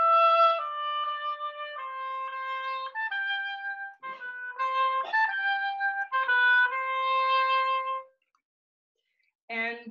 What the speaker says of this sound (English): there's a nice little moment for oboes and oboe d'amores that sounds like this.